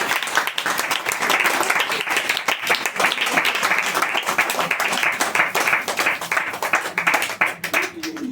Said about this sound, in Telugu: చప్పట్లు కొడతాం గట్టిగా.